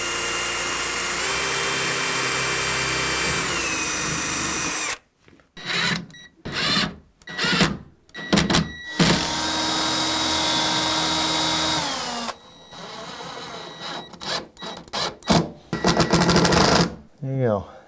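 Power drill pre-drilling and driving screws into a mudroom bench seat topped with hardwood flooring, long whirring runs broken by short bursts of trigger pulls, close and loud.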